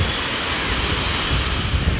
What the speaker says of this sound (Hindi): और अभी रेनी सीजन भी है, इसलिए लहरें बहुत तेज़ तेज़ आ रही हैं।